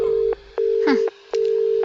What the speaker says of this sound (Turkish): Cümleyi tamamlamadan telefonu suratımıza kapattı.